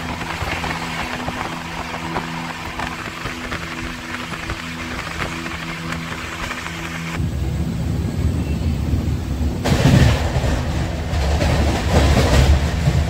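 A passenger train runs on the rails toward Howrah in the morning, a steady loud rumble with rhythmic clatter that grows heavier and rougher partway through, heard from inside the carriage.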